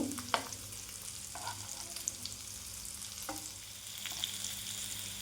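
Green peas fry in a pan, giving a constant close sizzle punctuated by a few scraping stirs and clatters.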